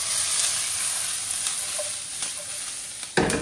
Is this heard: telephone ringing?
no